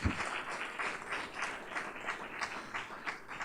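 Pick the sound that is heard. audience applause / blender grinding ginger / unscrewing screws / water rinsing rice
audience applause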